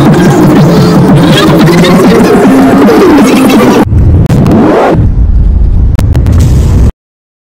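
A car driven on a desert road near Jaisalmer gives a loud, close rumble with engine revving and buffeting bursts, then cuts to quieter rumbling before abruptly going silent.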